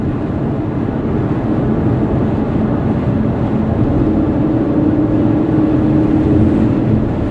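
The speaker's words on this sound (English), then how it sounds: "And the soundtrack of the engine makes you feel so alive driving this car." Interior drone of a 2019 Aston Martin V8 Vantage while driving, a loud steady engine and road roar with a slight rise in pitch partway through and no talking.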